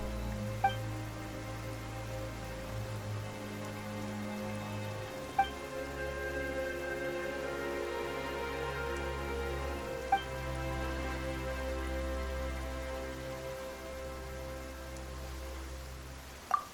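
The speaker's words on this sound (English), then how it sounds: "Why is it raining all of a sudden?" Rain falling in the video game Genshin Impact, a soft, steady patter spread evenly throughout, with a low music bed beneath and a few faint chime-like accents.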